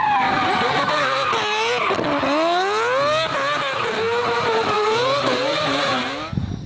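A green toy race car gives off a loud, continuous electronic engine-revving sound effect with a warbling pitch that rises and falls for about six seconds before cutting off.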